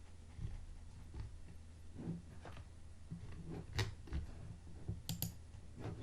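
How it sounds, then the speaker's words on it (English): Keystrokes on a computer keyboard, soft irregular clicks with a few sharper taps, fairly faint over a low steady hum, no voices. "Let's type in kitchen instead."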